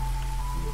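Steady rainfall in the video game Against the Storm makes a continuous, even hiss of drops on a surface, dense and unbroken, with a faint tonal hum beneath.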